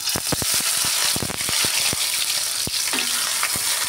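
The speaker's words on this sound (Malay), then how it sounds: "ni minyak dah panas. Saya tumis bawang merah dan bawang putih ya" Shallots and garlic sauté in hot oil with a loud, dense crackle and spitting. Rapid sharp pops and spatter bursts ride over a continuous bright sizzle close to the pan.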